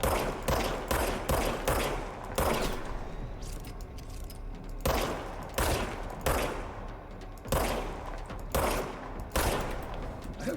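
Gunfire in the video game Control rings out in rapid bursts of sharp, punchy shots, several clusters of quick successive cracks with short pauses between, loud and close, with no talking.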